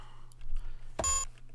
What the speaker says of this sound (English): It seems to be emitting a high-pitched beep.